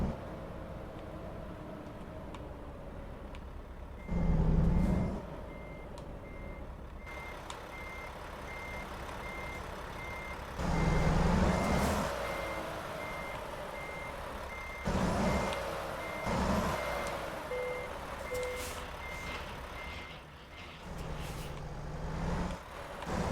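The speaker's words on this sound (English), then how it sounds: "Now we gotta load the truck back up onto the trailer" A truck in the American Truck Simulator video game reverses with a steady, evenly spaced electronic beep over a low engine drone, and the engine revs up in loud surges now and then.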